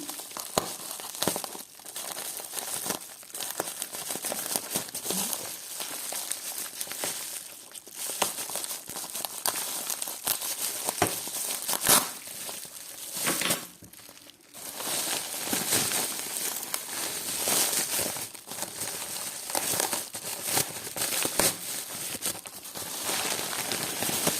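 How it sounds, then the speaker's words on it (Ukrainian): Plastic film wrapping is peeled from a parcel of vintage jewelry, giving close, continuous crinkling and crackling with sharper tearing rustles in uneven bursts for over twenty seconds, with no talking. "Далі він запакований в таку плівку. Ми зараз відкриємо."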